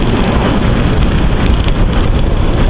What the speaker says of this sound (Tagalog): Yung hangin, tsaka yung hangin.